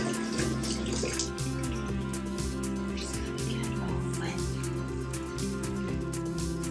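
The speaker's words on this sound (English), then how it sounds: "we're going to rinse the butcher block with warm water" Warm water runs steadily from a kitchen tap to rinse a butcher block countertop being resurfaced, a continuous splashing flow at close range with a low hum beneath.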